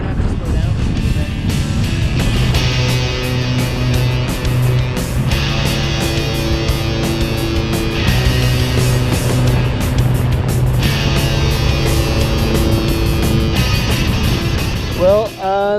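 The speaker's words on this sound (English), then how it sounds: "it's super windy over this pass. It's basically this huge crosswind, really gusty" Strong, gusty crosswind buffets a motorcycle rider crossing a mountain pass, a loud steady roar of wind layered over a droning engine, swelling and easing with the gusts.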